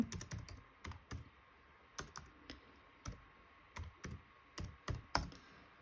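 Keystrokes on a computer keyboard, quiet and close, come in short irregular bursts of clicks with pauses between them and no talking.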